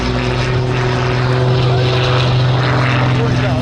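A propeller display aircraft takes off with smoke on at the Little Gransden airshow, its engine a loud, steady droning hum with strong tonal bands, close and continuous throughout.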